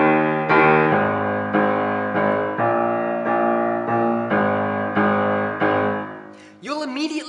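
Piano playing the bass line of a song, close and full, a steady series of sustained low notes and chords, ending as a voice begins speaking.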